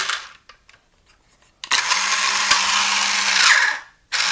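The electric motor of an MB Bigfoot RC truck whirs up after a few faint clicks and handling taps, holding a steady high-pitched buzzing whine for a couple of seconds, winding down briefly, then starting again.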